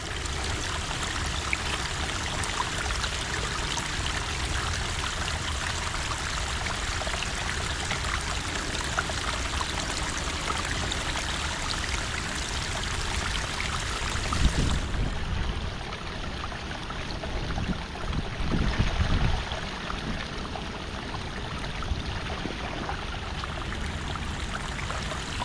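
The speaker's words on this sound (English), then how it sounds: "all that water is coming here and getting stopped up right here" Water rushes steadily through a beaver dam blocking a culvert outlet, giving a constant full-band gushing that continues throughout, with a slight change in texture partway through.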